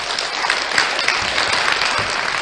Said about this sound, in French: Hey, des applaudissements pour Céline